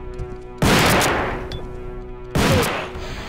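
Two loud, close shotgun blasts from the video game Resident Evil 2, roughly two seconds apart, each a sharp broadband boom decaying over a steady background hum.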